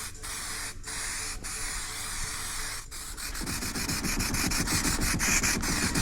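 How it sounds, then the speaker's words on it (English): An aerosol spray can hisses steadily as paint goes onto repaired parts of an Albutt shear grab, a continuous close spray with brief breaks and a rougher rubbing texture toward the end. "Give them a quick spray."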